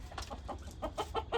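Native backyard frizzle-feathered hens with reversed feathers, white, black and grey, cluck in a breeding pen, a run of short repeated clucks with steady low background noise and no talk.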